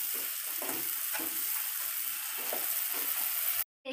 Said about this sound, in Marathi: तेल सुटेपर्यंत ह्याला थोडंसं परतून घ्यायचं आहे आपण.